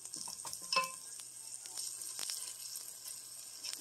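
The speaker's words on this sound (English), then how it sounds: "It's been cooking for a few minutes, so we're going to just push down the turkey to ground it up further." Ground turkey and onions fry in a pan with a soft, steady sizzle, broken by a few light scrapes and clinks of a utensil pushing the meat down, all fairly quiet and close.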